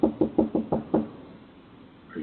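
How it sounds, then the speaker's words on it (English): Six sharp knocks on a door come in a quick, even series, then stop, followed by quiet room tone. "the man that's knocking on the door"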